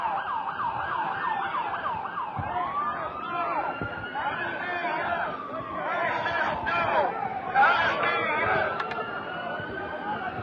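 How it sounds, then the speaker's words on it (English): Wailing police sirens rise and fall in the distance, sweeping up and down repeatedly while people at a street protest chatter and shout close by. "You hear the sirens in the background"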